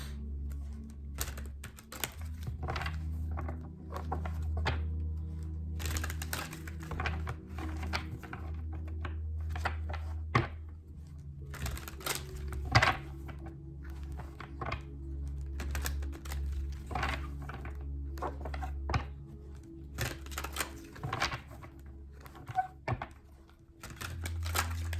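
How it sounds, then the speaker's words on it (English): Tarot cards being shuffled up close, a stiff deck giving irregular bursts of crisp riffling and tapping clicks over a quiet low hum, with short pauses between handfuls. "This deck is always so hard to shuffle."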